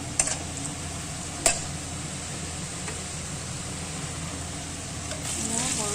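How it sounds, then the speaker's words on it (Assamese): Small chopped chicken pieces with turmeric frying in a pan: a steady loud sizzle, with a couple of sharp scraping stirs early on. "সৰু সৰুকৈ কাটি থোৱা মাংসখিনি ফ্ৰাই কৰি লোৱা হ'ব।"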